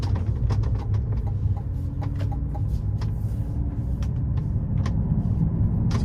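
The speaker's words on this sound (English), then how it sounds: "So I'm giving it a little throttle coming in this corner here." A 2023 GMC Hummer EV 3X rolls along a back road with a steady low rumble of tire and road noise, plus small rattles and knocks from inside the cabin, and no engine note.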